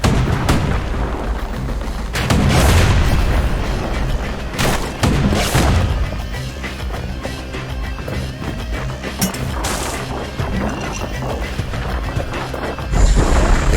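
Emergency defense turrets fire in the Bastion video game, producing a dense, continuous barrage of booming shots and crashing impacts. The sound is loud and constant, with heavier blasts standing out throughout.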